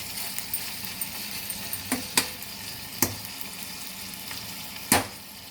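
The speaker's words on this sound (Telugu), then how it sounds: "ఇదిగోండి ఇలా వేగుతుంది చూసారా" Chicken and eggs coated with salt, chilli powder, turmeric, coriander, cumin and garam masala fry in oil, giving a steady close sizzle broken by a few sharp clinks and stirs.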